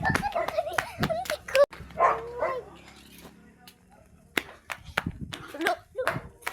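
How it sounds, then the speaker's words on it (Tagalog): A household dog gives a series of short barks and yips mixed with whimpering whines, close and fairly loud in bursts with quiet gaps, while a person talks over it. "Yung aso namin."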